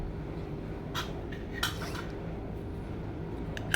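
A metal lid clanks onto a cooking pot of vine spinach on a gas stove, a couple of brief clinks over a steady low kitchen hum.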